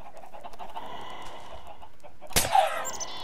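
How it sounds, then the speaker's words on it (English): Chickens cluck in the Minecraft video game, with a soft steady game ambience throughout and a sudden louder burst of squawking near the end. "Oh, chickens."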